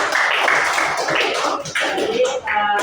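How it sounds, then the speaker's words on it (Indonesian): Classmates clapping together in a group, a dense steady patter of hand claps filling nearly three seconds at close range, with a few voices mixed in. "Udah, tepuk tangan untuk teman-teman semuanya."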